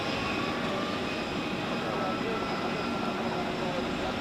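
A Helvetic Embraer 195 jet taxiing at Zurich Airport gives off a steady, broad engine roar with a faint high whine, continuous and moderately distant throughout.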